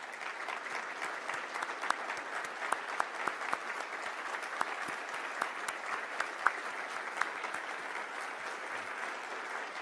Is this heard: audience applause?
yes